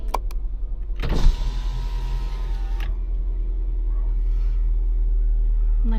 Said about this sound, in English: I'm letting the car warm up